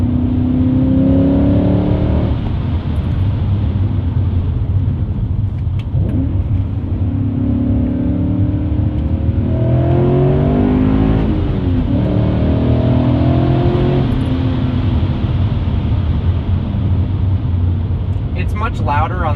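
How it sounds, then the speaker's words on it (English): A V8 car engine with a deep exhaust note and muffler delete revs and accelerates repeatedly, the pitch climbing and dropping over and over as it drives through turns. "V8 exhaust note any day"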